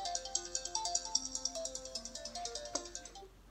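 A phone ringtone plays a quick, bright melody of plinking electronic notes at moderate volume, with no talking.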